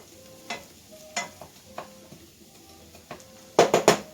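Onions and garlic sautéing in a pan, a soft steady sizzle broken by several sharp utensil scrapes and stirs, with a quick cluster of clatters near the end.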